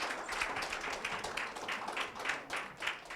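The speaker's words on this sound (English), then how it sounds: "Can we just hear a round of applause?" A church congregation gives a round of applause, faint, distant clapping with an uneven rhythm carrying on for about three seconds.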